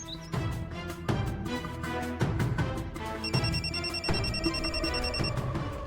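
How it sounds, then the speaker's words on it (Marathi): A mobile phone rings in a Marathi television serial scene, its bright repeating electronic chime entering partway through over steady background music. "Warden मॅडमचा phone."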